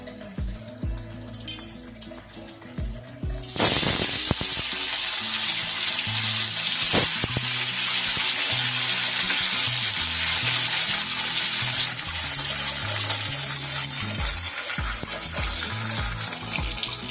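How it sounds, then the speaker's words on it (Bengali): Fish pieces drop one at a time into hot mustard oil in a wok and burst into a loud, continuous sizzle and crackle that fills the rest of the clip, with no talking. "এবার মাছগুলো আমি এক এক করে ভেজে নেব লাল লাল করে"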